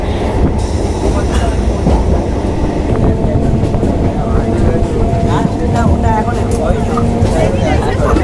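Namkhana local train running, a loud continuous rumble of wheels and carriage with rhythmic rattling, heard from inside the moving train, with occasional squeals and a voice speaking over it.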